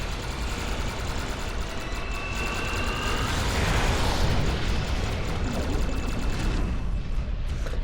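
Sci-fi weapon fire from Star Trek Online, a mycelial weapon blasting and exploding in a space battle: a dense, continuous roar of bursts and rumbling detonations, loud throughout and swelling toward the middle.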